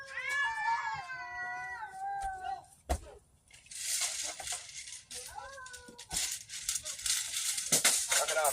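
Two house cats fight and caterwaul, with long, wavering yowls near the start and again midway, broken by scuffling bursts and hissing noise, close and fairly loud.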